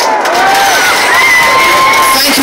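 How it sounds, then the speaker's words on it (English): A large outdoor crowd at the Folkestone Christmas lights switch-on cheers, whoops and claps loudly and continuously, with high shouts and whistles rising above the dense roar. "Give yourselves a round of applause."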